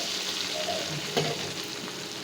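Browned onions with tomato and red chili paste sizzle steadily in a hot pan for Bengali hilsa fish curry, a loud continuous frying hiss with a brief stirring clatter midway.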